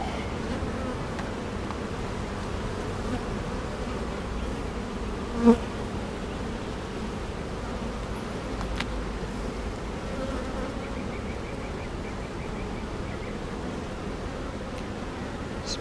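Honeybees from a hive under routine inspection buzz steadily and closely throughout, a dense continuous drone with a faint rustle and one brief knock partway through.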